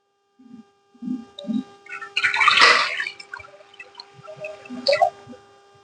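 Water is poured into a vessel in one short splashing stream, with faint bird chirps in the background.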